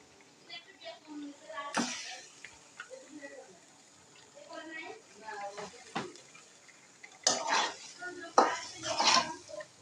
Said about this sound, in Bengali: এখন আমি ভালো করে নাড়াচাড়া করে নিচ্ছি